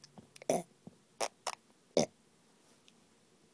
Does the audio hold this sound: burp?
yes